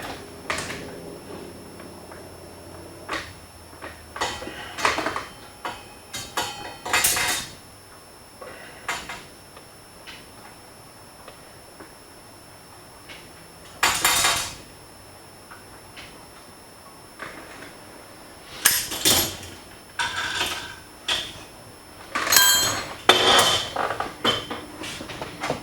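A home-shop sheet metal brake is worked in bursts: sharp metallic clanks and clamping knocks come singly and in quick clusters, separated by quiet pauses.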